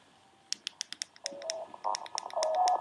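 Faint, high-pitched electronic tones from a computer performing RSA decryption, amplified to be audible, shift in pitch alongside a rapid series of sharp clicks.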